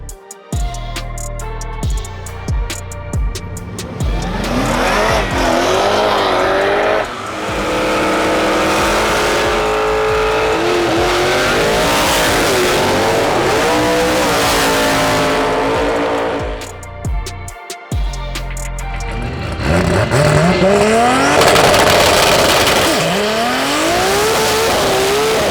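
Mazda RX7 FD with a rotary engine launches on a dragstrip: a loud, close rotary scream climbing through the gears with brief drops between shifts, then a second hard, rising run.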